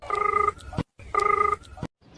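A telephone rings on a phone call, two nearby electronic ring bursts in a regular pattern, each followed by a brief gap.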